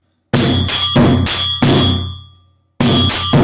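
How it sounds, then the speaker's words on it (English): A bell and a djembe drum are struck in alternation in a workshop setting, giving loud bright metallic hits in a steady pattern, one ringing longer before fading and then a pause. "So I hit together, then the bell, the drum, the bell, together."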